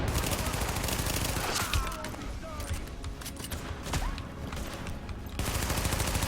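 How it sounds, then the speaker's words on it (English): A grenade blast and gunfire in The Division, a shooter game, come as dense crackling bursts of shots and rumble that run continuously and sit under someone talking. "get a grenade over here. Just gonna press one button E, automatically target, and then I can just click and shoot and blow it up right here."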